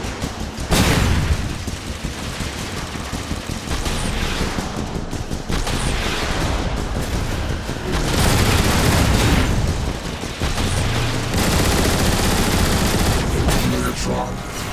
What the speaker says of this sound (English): Homing rockets! Take cover!